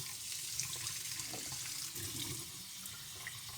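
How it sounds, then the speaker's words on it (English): Warm water runs from a tap to fill a plastic spray bottle, a steady broadband hiss of flowing liquid holding for several seconds at close range, with no voices. "fill it up with warm water"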